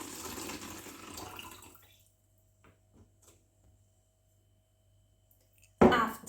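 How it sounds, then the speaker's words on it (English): Water poured into a water bottle during a home science activity, a broadband splashing pour for about two seconds that fades out, followed by near silence with faint ticks and a sharp knock at the end. "now I'm going to pour the water in the water bottle."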